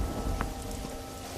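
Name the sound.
unseasonal rain falling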